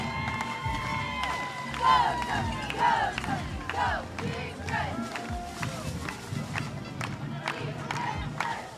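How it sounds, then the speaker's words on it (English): Stadium crowd at a high school football game cheering as the band and cheer squads arrive, a roaring mix of shouts, whoops and scattered clapping with drum hits, under a public address announcer's voice. "Make some noise for your band and your cheer squads as they come up to the stadium."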